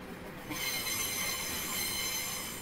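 A Class 395 Javelin train on a railtour rumbles steadily along the rails, wheels squealing with a high metallic whine, loud and continuous throughout.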